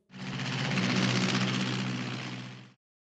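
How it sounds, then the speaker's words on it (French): An airplane passes overhead in a broad, rushing engine roar that swells in and fades out over about two and a half seconds, loud and alone with no voices. "A is for airplane."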